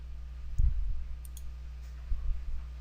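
Keys clicking in short bursts as a measurement is entered on a device, a few soft, close taps clustered near the start and again toward the end over a low steady hum.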